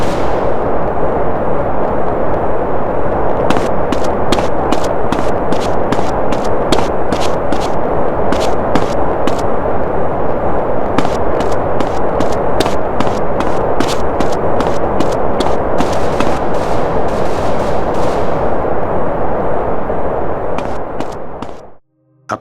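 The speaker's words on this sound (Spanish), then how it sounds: "él habla sobre unos disparos que se escuchan en el ambiente del juego" Ambient gunfire in GTA San Andreas crackles as a long run of distant, rapid sharp shots over a loud, steady background roar, lasting most of the stretch before cutting off abruptly.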